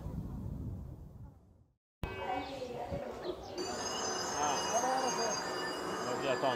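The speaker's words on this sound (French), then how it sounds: "On vient de prendre le métro de Le Caire" A Cairo metro train runs along its track with a steady rumbling roar, metallic wheel squeals and a high whine, heard from on board and fairly close, with voices talking underneath.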